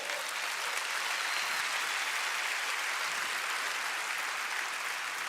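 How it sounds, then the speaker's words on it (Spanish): A church congregation claps together during a sermon, producing a sustained, even wash of applause that holds steady throughout at moderate loudness. "Denle un aplauso a Jesús que no pecó."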